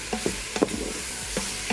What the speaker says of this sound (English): All right, I'm just gonna mix around.